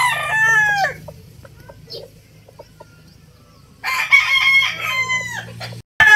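A gamefowl rooster on a breeding farm crows loudly and close by, then clucks and calls softly, then crows a second time, with a faint low hum underneath.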